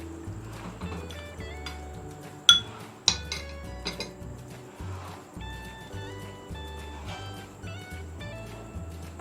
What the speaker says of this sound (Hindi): अब इसको हिलाऊंगी और आहिस्ते आहिस्ते करके डालती जाऊंगी।